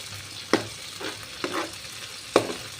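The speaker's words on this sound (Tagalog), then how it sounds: "sardinas, piniprito ko muna dyan" Sardines fry in a pan for a Filipino sautéed dish, a soft sizzle broken by several sharp scraping stirs and utensil knocks against the pan at uneven intervals, with no talking.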